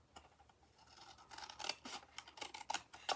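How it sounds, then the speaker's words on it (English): Scissors snip small rectangle pieces off paper while making a ribbon dispenser: a close series of crisp cutting crunches that grow louder and denser toward the end, with no talking. "I'm going to take my scissors and I'm going to cut off these 2 little rectangle pieces here at the bottom"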